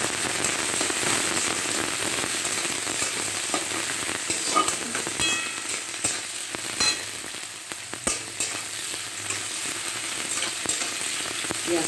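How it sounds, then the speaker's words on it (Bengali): Onions sizzle steadily in a pan with cinnamon and cardamom, a dense continuous frying crackle with occasional sharper pops and stirring scrapes, close and fairly loud throughout with no talking. "পেঁয়াজটা লাল লাল করে ভাজাবো।"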